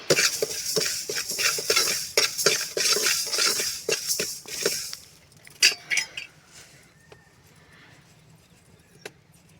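Forty grams of cumin seeds fry in a pan for tomato chutney, a dense sizzle cut by repeated spoon scrapes and clinks for about five seconds, then fading to a few isolated knocks and near quiet.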